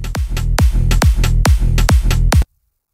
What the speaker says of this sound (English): And then the second half we're going to do that quick rapid